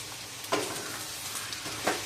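Chicken fries in a pan with ginger and garlic for a chicken roast, a low steady sizzle broken by two sharp scraping stirs, close and alone.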